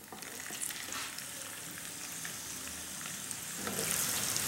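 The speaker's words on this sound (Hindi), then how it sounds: "और इसको थोड़ा सा फ्राई करेंगे" Whole spices such as cloves, black pepper and cinnamon fry in hot oil for an egg curry. The sizzle is steady and close, with stirring scrapes, and it grows louder toward the end.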